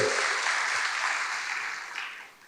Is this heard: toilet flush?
no